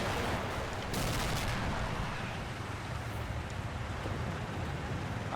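Gunfire aimed at Pershing tanks in a Combat Mission war game comes as dense, rumbling bursts of shots and distant booms, steady and fairly loud, with no talking.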